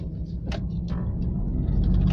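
Volkswagen T25 Caravelle van pulling away in first gear, a steady low drivetrain rumble and engine drone building slightly, with a faint gear whine riding over it from inside the cabin.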